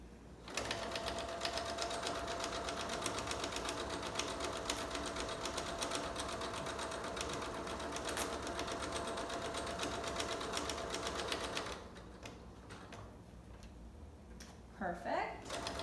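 A sewing machine stitches a handmade fabric mask in a steady, continuous whir for about twelve seconds, then stops. Quieter room noise and a few faint clicks follow.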